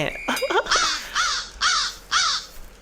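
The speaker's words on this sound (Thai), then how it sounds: "อ๋ออีกา มึงอย่าร้องเยอะ" A crow in a horror video game caws four times in an evenly spaced series of loud, harsh calls, preceded by a brief scrappier squawk.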